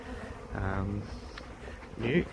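Bees buzz in short bursts close by at a small feral hive in a 5-frame box, a droning hum rising and falling with brief talk mixed in.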